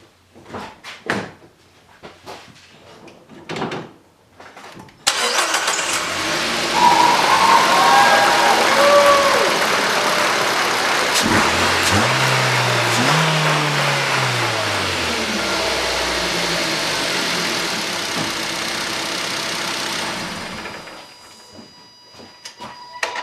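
A Nissan Qashqai J10 with a misfire cranks and catches after a few quiet clunks, then idles steadily and close for about fifteen seconds before shutting off, with no talking.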